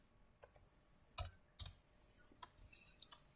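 Keys on a computer keyboard are pressed in sparse, irregular bursts, a few sharp clicks separated by quiet gaps, close and faint, with no voice.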